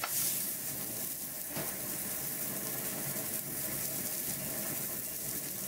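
A filet steak sears in a hot cast iron pan, giving a constant dense sizzle and crackle that holds steady throughout, close and fairly loud with no talking.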